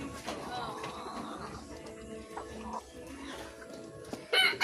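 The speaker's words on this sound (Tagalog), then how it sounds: "Dagham rin kag manok te." Hens cluck and chatter steadily in the background, fairly close, with soft voices talking over the farmyard noise and a louder burst at the end.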